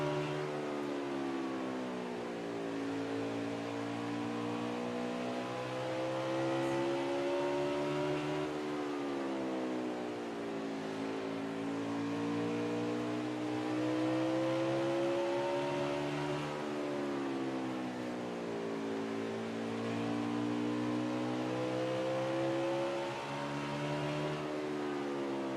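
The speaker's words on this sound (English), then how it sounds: "Off, smooth, hard back on the throttle as we come down the backstretch for the 14, the leader" An onboard race car engine at Bristol Motor Speedway, the leader's car in a TOCO Warranty Cup Series 250, lifting off and then going hard back on the throttle in long rising and falling sweeps, loud and continuous with no talk.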